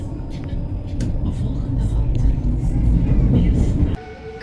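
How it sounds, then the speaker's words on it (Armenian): A tram rolls past on a city street, a loud, close, sustained rumble and rattle of wheels on rails that builds and then cuts off abruptly near the end. "հիմա էլ տրամվայն եկավ խանգարեց։"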